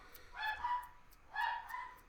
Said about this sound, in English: you can probably hear my dogs barking in the background